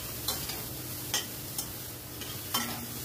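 Softened vegetables are stirred in a frying pan under a low continuous sizzle, with a few sharp scraping clicks of the spatula spaced irregularly throughout.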